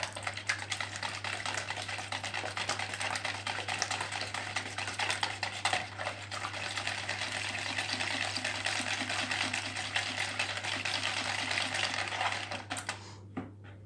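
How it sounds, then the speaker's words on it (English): A whisk beats banana and chocolate bread batter in a bowl with rapid, rattling clicks and sloshing that continue steadily for most of the clip over a constant low hum, stopping just before the end. "Might just be the whisk I'm using."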